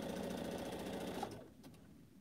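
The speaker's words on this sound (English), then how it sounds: "as I'm just sewing here, I just pick up a piece" A domestic sewing machine stitching scrappy pineapple quilt block pieces, a steady fast mechanical hum and chatter close by that stops after about a second and a half, leaving a couple of faint clicks.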